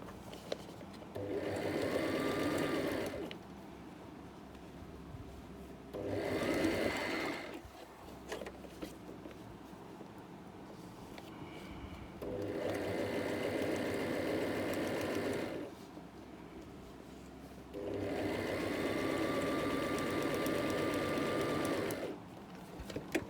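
An electric sewing machine stitches hair wefts in four separate runs, each a steady, whirring, rapid needle rattle lasting a few seconds, separated by quiet pauses.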